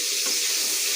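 Onions frying in a pan after eggplant has been browned, a loud, close, continuous sizzle with no talking.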